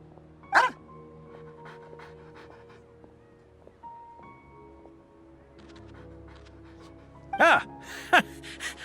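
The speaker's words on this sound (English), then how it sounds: "What a well-behaved doggy." A dog in a video game pants and gives short whimpering yelps, brief bursts at the start and near the end over quiet background music.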